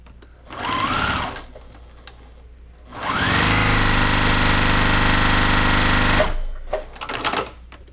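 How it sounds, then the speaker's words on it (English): A sewing machine stitching a quarter inch quilt seam runs in a short burst, then a longer steady run of rapid, close, loud needle clatter, stopping briefly between. "just sew this quarter inch seam"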